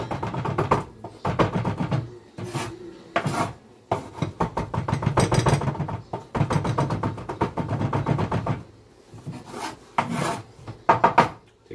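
A sharp knife scrapes and rasps across a cutting board, fanning through a pile of chopped food in steady strokes with short pauses, close and fairly loud, with no voices.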